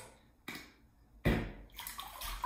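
Water runs into a bathtub for a bubble bath with eucalyptus salts, a soft, steady rush broken by a couple of louder splashing bursts, faint and alone without speech.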